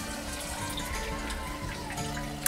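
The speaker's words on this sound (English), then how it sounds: "we're gonna turn this water on and let her fill up and see if we got any leaks" Water runs into a newly replaced toilet tank as it fills, a steady close hiss and trickle from the supply line with a faint click near the end and no voices.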